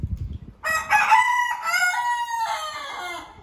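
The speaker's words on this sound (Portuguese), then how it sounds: "É claro que tem que ter um canto de um galo aqui" A rooster crows close by at a home with chickens, a long drawn-out call with a rising start and a sustained wavering tone, loud and alone.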